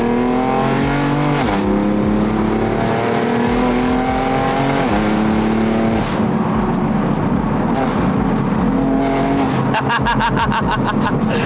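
A BMW M4 convertible with an Akrapovic exhaust, roof down, drives hard with a loud rasping engine rising and dropping through gear changes, ending in a burst of sharp crackling revs near the end.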